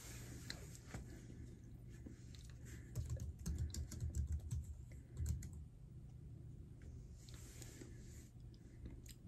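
Keyboard typing during a clay-haul unboxing, a steady patter of soft clicks running through the clip with denser bursts in the middle, fairly quiet and close, with no voice over it.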